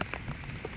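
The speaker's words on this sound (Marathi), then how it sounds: "पावसाने बरसायला सुरुवात केलेली आहे, तुम्ही बघू शकता वातावरण" Rain falls in a short, faint patter of scattered drops hitting a surface, soft and close.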